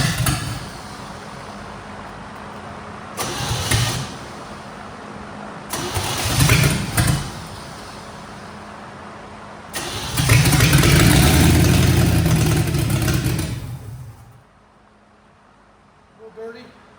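A 1969 Chevy C10 engine cranking on its first start with a new carburetor, with repeated loud starter bursts that finally catch and run briefly before cutting out.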